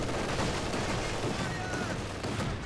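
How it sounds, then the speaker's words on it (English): Dense, continuous gunfire and explosions rumble through a World War II real-time strategy battle in Company of Heroes 2, with heavy machine gun bursts mixed into a loud, unbroken wash of combat noise and some speech beneath. "But he's taking heavy machine gun fire there."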